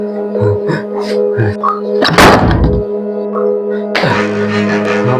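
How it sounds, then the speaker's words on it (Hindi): A door in a staged horror-house skit gives a sharp rattling thump near the middle, then a second heavy knock or bang, heard over a steady low tonal hum in a room. "अब दरवाजा भी खोलो"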